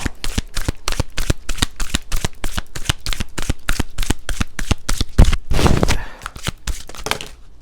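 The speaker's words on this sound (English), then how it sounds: "Let me just get one card here." Tarot cards shuffled by hand, a rapid run of crisp, evenly spaced riffling snaps close by, followed by a brief denser rustle as a card is drawn, loud and alone with no talking.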